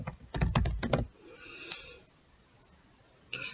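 Search term typed on a computer keyboard, a quick burst of close, crisp key taps in the first second, then a quiet pause and a few more taps at the end.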